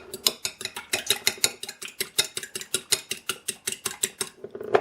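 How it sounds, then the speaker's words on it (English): Eggs being beaten by hand in a bowl for oatmeal chocolate chip muffin batter, a quick steady series of about twenty-five clicking utensil strokes against the bowl, close and fairly loud with no talking. "Then I'm going to break up the eggs a little bit."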